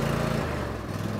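Cub Cadet garden tractor engine turning over and catching, a short rough low mechanical rumble heard close and fairly loud.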